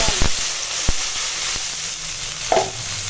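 Water poured into a pan of sautéed papaya, potato and green banana with spices, bringing a loud close sizzle punctuated by sharp clicks of stirring utensils.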